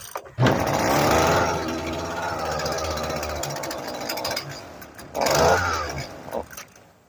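A Husqvarna string trimmer engine fired on 24-year-old kerosene catches almost immediately and keeps running with a loud, close, buzzing two-stroke drone, briefly dipping before surging again near the end.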